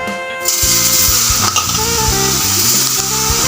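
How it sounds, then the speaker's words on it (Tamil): Squeezed soya chunks sizzle and are stirred in a hot pan, with a steady frying hiss under repeated scraping strokes and faint clinks of the spoon against metal, continuing close and fairly loud throughout. "நம்ம புழிஞ்சு வச்ச சோயாவை அதில் போட்டு ரெண்டு கிண்டு கிண்டணும்"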